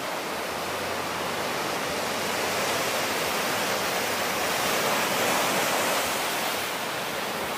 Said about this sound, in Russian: давайте немножко послушаем прибой